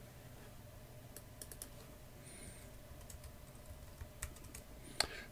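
Someone types on a computer keyboard, with sparse individual key clicks scattered unevenly across a quiet room. A few taps come in quick bursts and one sharper click lands near the end. The sound is close but soft, with no talking.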